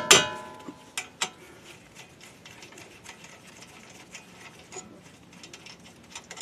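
Bolts on a Honda Fit brake caliper being broken loose with a mallet, giving a few sharp metallic knocks in the first second or so, then faint ratcheting ticks and small clicks.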